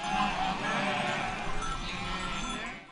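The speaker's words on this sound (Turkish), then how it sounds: "Meşhur Rus koyunları şimdi Ankara'da." Romanov sheep bleating loudly and continuously nearby on a farm, overlapping calls with a faint clank of a bell in the background.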